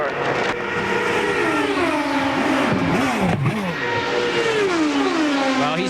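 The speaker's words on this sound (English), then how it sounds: "the engine is running. You can hear it running" Indy car engine from the 2003 Indianapolis 500, running steadily at the track despite a power fault, a loud continuous tone that rises and falls in pitch with brief revs, with a commentator talking over it throughout.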